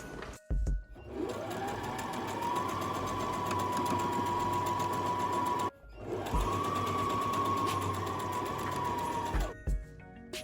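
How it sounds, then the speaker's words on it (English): Sewing machine running a straight stitch down joined fabric strips for a quilt, a steady whirring hum in two long runs split by a short pause, with faint clicks at the starts and ends, close up and with no one talking. "I'm going to stitch this together so that it gives me that illusion, and then I'll just run a straight stitch all the way down."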